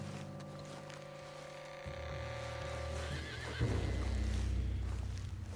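A spooked horse in the video game Red Dead Redemption 2 whinnies over a steady low engine-like drone and background rumble, with a shrill rising neigh partway through; no talking.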